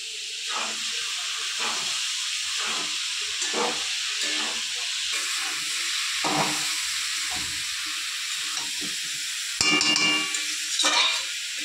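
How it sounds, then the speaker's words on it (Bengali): Jackfruit and potatoes sizzle in a frying pan with a steady, close hiss, while a spatula scrapes and stirs in repeated short strokes throughout, with no talking. "এবার আমি এঁচোড়টা আলুর সাথে হালকা করে আবার ভেজে নেব।"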